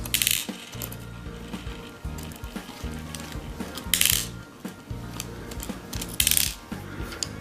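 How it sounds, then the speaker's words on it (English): Small metal screws come out of an Omni Mount with light clinks and ratcheting clicks. Brief bright metallic rattles sound close by, like screws being dropped or handled, over a low steady hum with no talk. "If on the other hand you wanted to go for a signal mount, then we take these 3 little screws out again."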